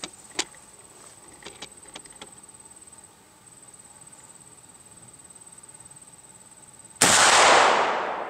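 A single loud shot from a Thompson Center New Englander muzzleloader rifle booms near the end after a quiet stretch of faint clicks and a steady high insect-like whine outdoors.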